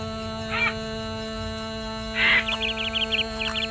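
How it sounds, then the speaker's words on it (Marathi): Birds call in a large forest near the Mukundraj Samadhi temple at Ambajogai: a short chirp, then a quick run of repeated high chirps over a steady background hum. "पक्ष्यांचा आवाज तुम्हाला ऐकू येत असेल."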